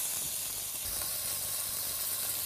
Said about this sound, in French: on va la saisir sur toutes les faces avec un petit peu d'huile d'olive